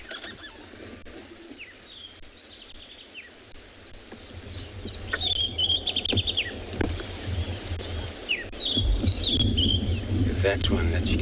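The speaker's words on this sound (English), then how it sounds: "They're ground birds that forage through grasses." Small ground birds forage through grasses on an evening safari, their high chirps and trills scattered over a steady hum of insects and crickets, with a louder burst of calls near the end.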